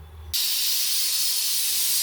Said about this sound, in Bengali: প্রেশার কুকারে সিটিটা করছে